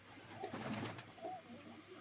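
Soft, low pigeon coos rise and fall in a couple of short phrases against a steady background hiss, fairly close and gentle.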